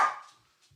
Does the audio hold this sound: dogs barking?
yes